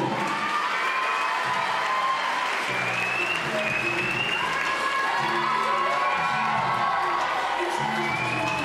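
A beauty pageant audience fills the hall with steady, dense applause mixed with cheering and occasional whoops, loud and continuous throughout with no break.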